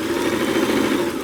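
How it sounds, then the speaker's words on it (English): A sewing machine stitching upholstery fabric on a chair seat, a steady close mechanical hum and whir running without a break for the whole moment, with no talking. "I'm going to sew to the end"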